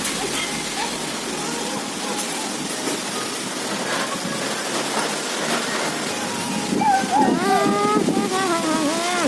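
Rain falling in a village, a steady dense hiss of drops throughout, with a voice singing or chanting over it toward the end.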